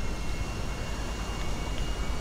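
A fixed-wing airplane flies past in the video game GTA 5, a steady, fairly loud engine drone and rush of air that holds constant with no gaps.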